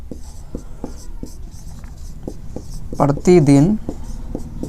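Chalk or marker taps and scratches across a board in short, regular strokes while a maths teacher writes during a lesson, and someone talks briefly over the writing.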